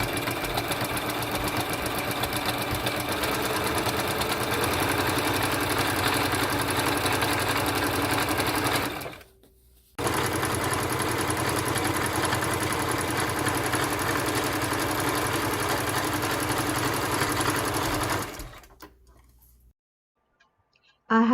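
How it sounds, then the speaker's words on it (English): Sewing machine running a straight stitch through fabric for a pleated face mask, a steady buzzing whir in two long runs separated by a brief stop, ending with a short pause. "I have stitched these using a straight stitch"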